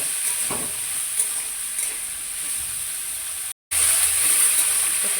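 Green peas fry in a kadai with mixed winter vegetables. A loud, continuous close-up sizzle runs with the soft scrape of stirring, broken by one brief gap of silence, and no voices are heard.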